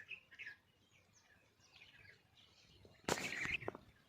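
Thin, high sparrow chirps come and go faintly at first, then a brief louder burst of tweeting and fluttering near the end.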